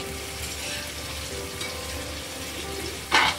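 Potatoes going into a hot pan for a village-style brinjal and potato curry with green masala, giving a steady sizzle and frying hiss throughout with a brief louder burst of crackling near the end.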